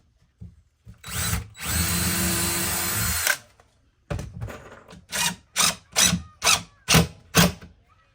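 A power drill whirs in one long sustained run, then a series of short, evenly spaced bursts as screws are driven into plywood, close and loud.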